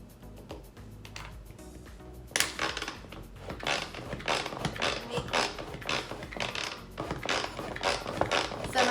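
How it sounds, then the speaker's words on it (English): Hand-cranked manual food processor stirring flour, sugar and salt in a kitchen, starting after a quiet moment as a steady, close run of ratcheting, gear-like churning with no talk. "So my manual food processor, all it is it's just stirring all that up for me in there"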